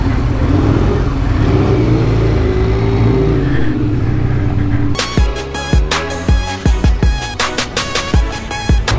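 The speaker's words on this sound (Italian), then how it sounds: "Il motore è bello pronto," A Benelli Leoncino 500 motorcycle rides along with a steady, loud engine drone that rises in pitch, then gives way to a rapid run of sharp, close mechanical clicks and knocks near the end.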